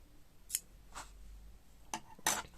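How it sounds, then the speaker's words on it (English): Four quick snips of scissors cutting yarn while changing colour in crochet, sharp close clicks spaced irregularly over a quiet background. "Then you take scissors, you cut this."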